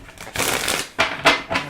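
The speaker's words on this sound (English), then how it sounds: "So, I'll get one shuffle for you." Tarot cards being shuffled in a few quick riffling bursts, close and moderately loud, with faint background music and no talking.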